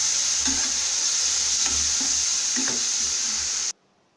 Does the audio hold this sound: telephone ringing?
no